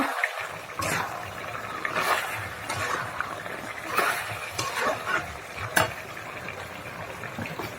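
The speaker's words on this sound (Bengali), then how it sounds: "কষানো হয়ে গেছে আমি পানি দিয়ে দেবো" A loud sputtering sizzle and bubbling rises as water is poured into a curry pan after the spices have been fried, with scattered sharp spatters and a few utensil clinks across the clip.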